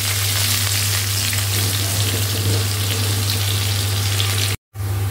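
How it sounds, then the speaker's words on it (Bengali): Onion, garam masala and bay leaf fry in a pan with a dense, continuous sizzle over a steady low hum, briefly cut off near the end, with no talk. "এবার একে একে পেঁয়াজ, গরম মশলা দিলাম, তেজপাতা, সব কিছু দিয়ে"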